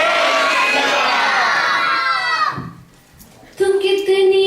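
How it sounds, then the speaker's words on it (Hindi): Gurukul children at a Hariom temple Mother's Day celebration shout and cheer together, a loud, dense crowd roar that fades briefly before surging back as sustained high-pitched chanting. "जब तक गुरुकुल के बच्चों का शोर नहीं आएगा, आवाज नहीं आएगी"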